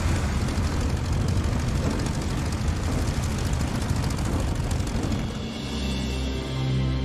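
An airship engine in the video game The Artful Escape rumbles as a loud, continuous, dense drone, steady throughout and easing slightly near the end.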